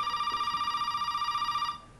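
A phone rings in the Resident Evil 7 video game: a single sustained electronic trill with a fast warbling pulse, loud and alone, that cuts off abruptly near the end.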